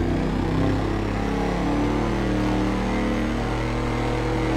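A Dominator monster truck engine in GTA V drives through a tunnel, giving a steady, loud low rumble that drones on without a break and with no voices over it.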